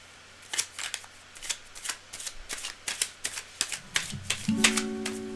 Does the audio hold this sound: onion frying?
no